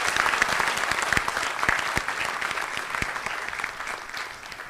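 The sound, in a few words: audience applause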